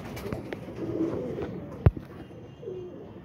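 A loft of about thirteen pigeons, cooing softly at a distance with a steady low murmur and one sharp knock partway through.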